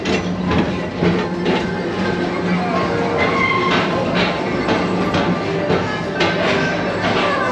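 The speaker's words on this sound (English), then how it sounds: "your express train keeps on rolling through the future" A Disney PeopleMover ride train at the Magic Kingdom rolls steadily along its elevated track, a continuous close rumble with soft rhythmic clicks throughout.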